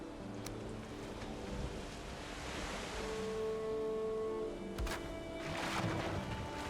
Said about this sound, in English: The swell of the water does lift these things.